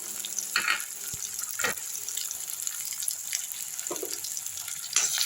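Carrots sautéing in oil while rava upma is being cooked, a soft continuous sizzle with a few scattered clinks and scrapes of a utensil against the pan, heard alone without voices.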